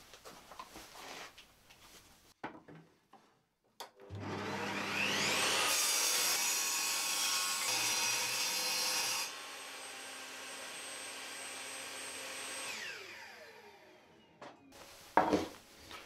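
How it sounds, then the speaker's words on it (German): Table saw cutting a groove in a 15 mm wooden board: a few handling knocks, then the motor spins up into a steady whine, a louder rasping cut, and a winding-down tail before more clatter. "dann stelle ich meine Tischkreissäge ein und dann kann es losgehen"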